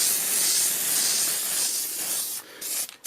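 An aerosol spray can sprays cleaner onto stainless steel parts and pipes of a machine, a loud close hiss held for over two seconds and then cut into a few short bursts.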